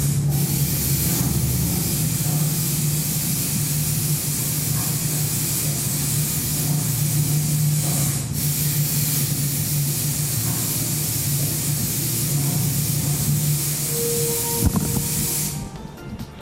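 A fire extinguisher sprays onto a flame in one long, loud, steady hiss that lasts about fifteen seconds before cutting off.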